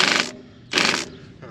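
Two loud, buzzing bursts of a power wrench tightening bolts on a tractor, each lasting about a third of a second, close by with a short quiet gap between them.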